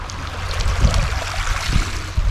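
Small sea waves washing ashore on a calm sunny morning at a southern resort beach, a steady soft wash with gentle swells and light wind noise, close and continuous.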